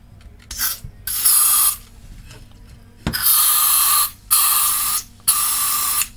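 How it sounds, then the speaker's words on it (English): WD-40 contact cleaner sprayed from an aerosol can into an amplified active speaker, several loud, close hissing bursts of a second or so each, separated by short gaps and a click. "So this is a WD-40 limpiador de contactos, which is switch cleaner in Spanish."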